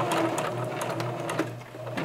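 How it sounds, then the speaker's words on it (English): A sewing machine runs steadily and close by, topstitching right along the curved edge of a rounded pocket with a continuous, even mechanical hum and no pauses. "you're going to sew as close to the edge of that pocket as you can"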